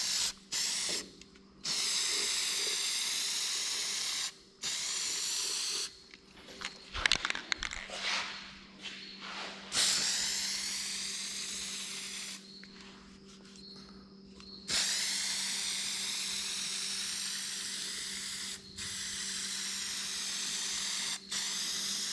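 A spray can nozzle puts paint onto the tin of a 1950 Oliver tractor, in several long, close hissing bursts separated by short pauses, with a few faint clicks between them.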